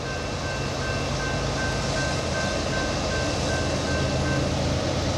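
A CSX mixed freight train hauled by four locomotives rolls past in light rain, a continuous broad rumble of wheels and cars with a faint steady tone running through it.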